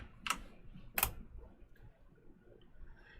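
A few sparse keystrokes on a computer keyboard, two distinct clicks near the start and a faint one later, quiet and close in a hushed room.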